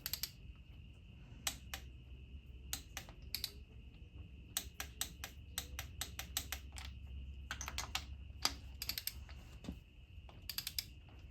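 Torque wrench clicking while spark plugs are seated in aluminum Edelbrock heads on a 351C engine, with sharp, irregular clicks in short clusters over a low background hum and no talking.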